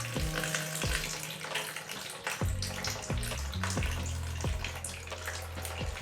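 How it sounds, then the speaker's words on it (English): Water poured into a focaccia dough mixture with biga, a continuous close pouring and splashing with repeated knocks or clunks, no speech. "We're going to add our water."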